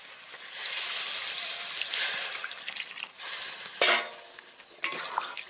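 Water poured into a pan of bottle gourd and masoor dal cooking for a village lunch, setting off a bright, hissing sizzle that rises and falls, with a few sharp bursts and stirring scrapes near the end.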